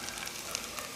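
Onions frying in hot coconut oil in a pan give a steady, close hiss of sizzling with faint crackles, and no one speaks.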